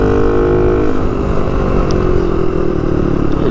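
A Honda Dax motorbike engine pulls hard in third gear, its loud, close, buzzing drone holding steady without a break throughout.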